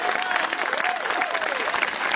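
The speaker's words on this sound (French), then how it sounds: "applaudi par le public" A public crowd claps for the bâtonnier at an outdoor mock trial during the Accroche-coeurs 2012 festival, a brief, steady burst of many hands with a faint voice rising over it.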